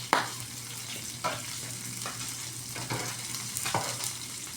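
Pork sizzles steadily in a frying pan, a continuous close hiss broken by periodic scraping stirs, with no talking.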